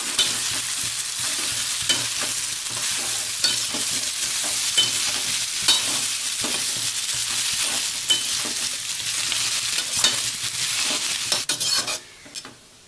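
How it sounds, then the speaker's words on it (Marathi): Boiled hakka noodles frying in oil in a pan, a bright steady sizzle with regular stirring scrapes and light clinks of utensil on metal, fading out abruptly at the end, no voices. "आपण सर्व नूडल्स फ्राय करून घेतले या तेलामध्ये"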